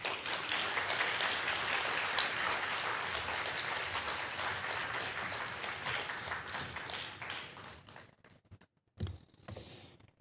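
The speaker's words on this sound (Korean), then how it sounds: "우리 김윤기 선교사 나올 때 우리 환영의 박수로 우리 모시겠습니다" A church congregation claps in welcome as a missionary comes up to the stage during a Sunday morning service, steady dense applause that thins and fades out near the end, followed by a few isolated sounds.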